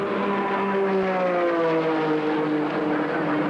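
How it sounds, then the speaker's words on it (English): Race car engines at Watkins Glen in 1978 roar steadily, their pitch sliding and overlapping as several cars pass close and loud. "While the race settles down to a steady roar of horsepower"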